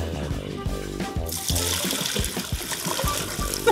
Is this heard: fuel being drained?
yes